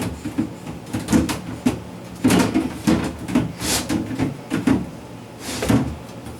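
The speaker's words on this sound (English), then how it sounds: "first we are going to remove the drawers" Plastic drawers are pulled out of a refrigerator during a clean-out, giving a run of close sliding scrapes, rattles and knocks in uneven bursts.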